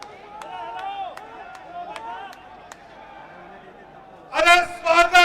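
A crowd at a BJP victory celebration in New Delhi bursts into loud applause to welcome the Prime Minister, arriving in rapid clapping waves after a stretch of amplified speech and scattered claps.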